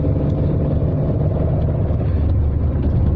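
A Matra Murena's engine drones steady and loud from inside the car while driving, a continuous low rumble with no clear gear change heard.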